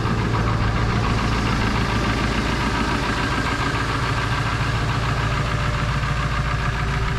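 A Ford 7.3 diesel truck engine idles steadily while off-road diesel fills a transfer tank, a close, continuous knocking rumble with no letup and no voices.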